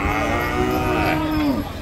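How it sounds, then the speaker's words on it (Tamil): A big cow of unknown breed in a Jaffna crowd of cattle gives one long, loud, close moo that glides downward at the end, with a low outdoor background. "பெரிய மாடு. என்ன இன மாடுன்னு தெரியல, பெரிய மாடு."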